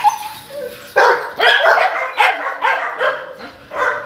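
Several dogs barking at an animal shelter, a burst of loud, close barks and yips repeating at an uneven rhythm, with no talking over them.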